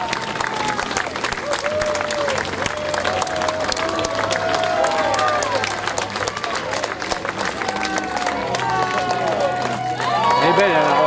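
Sustained applause and cheering from a crowd at a costume podium show in Chanaz, greeting a couple in Venetian costume; steady, dense clapping fills the whole stretch with voices mixed in underneath.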